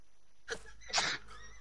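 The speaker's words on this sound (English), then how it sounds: "Okay, I need to stop sneezing." A single close sneeze, a short sharp burst with a quick intake before it, in an otherwise quiet room.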